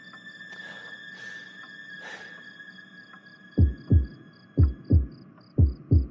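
Heartbeat sound effect in a tense medical emergency scene: three pairs of deep, thudding lub-dub beats arriving in a steady rhythm after a stretch of electronic hum and high monitor beeps.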